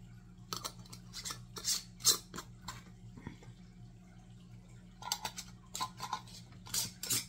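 Metal canning jar bands being finger-tightened by hand on jars of spaghetti sauce, a series of close, light scraping clicks and rasps in two bursts with a quiet gap between.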